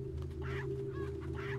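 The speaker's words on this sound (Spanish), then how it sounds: "Gallinas." Chickens cluck in short bursts in the Resident Evil 4 video game, three clucking calls over a steady low droning game ambience with no talking.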